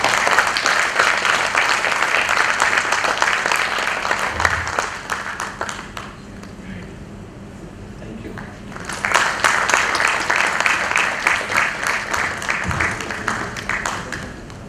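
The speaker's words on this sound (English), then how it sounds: "So big rounds of applause for everyone." Audience applause at an institute's foundation day lecture on India's planetary and space missions, a dense crowd clapping that fades to a quieter lull midway before swelling again and continuing steadily.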